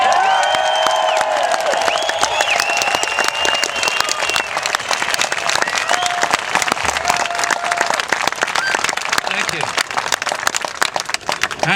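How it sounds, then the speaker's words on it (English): An outdoor crowd at a protest gathering near the Bilderberg meeting in Watford claps and cheers for David Icke, loud dense applause with whistles and shouted voices over it, continuing strongly the whole time. "So I think we're going to give an enormous round of applause for Mr."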